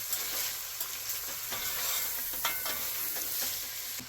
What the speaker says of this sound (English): these are going to go ahead and cook for around 5 to 10 more minutes, just until the edges of the onion start turning translucent